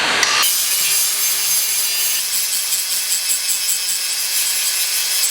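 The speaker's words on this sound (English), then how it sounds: "it's going to be in our best interest to use a larger grinder" A large grinder works continuously on a forged stump anvil, giving a loud, steady, harsh abrasive roar that holds without a break from start to finish.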